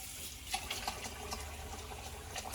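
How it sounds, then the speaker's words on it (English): Plates are scrubbed in a sink with silicone dishwashing gloves under running tap water, a steady splashing flow with soft rubbing and faint clinks, close and fairly quiet, no talk. "Let's scrub some plates and see if it makes life easier or not."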